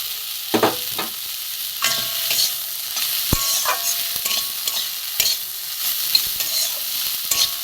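Fried eggplant goes into a frying pan and is stirred, a steady close sizzle with scraping spatula strokes and occasional sharp knocks against the pan, and no voices.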